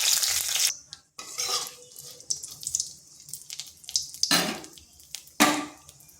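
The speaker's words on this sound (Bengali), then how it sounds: "এখানে ফোড়নে দিচ্ছি গোটা জিরা, একটি শুকনো লঙ্কা আর দিচ্ছি তেজপাতা" Whole cumin, a dried chili and a bay leaf hit hot mustard oil in a kadai, giving loud bursts of sizzling spatter separated by quieter crackling gaps.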